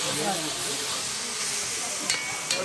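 Tomato sauce cooks in a pan and is stirred, giving a steady soft sizzle and hiss with a couple of faint clinks near the end.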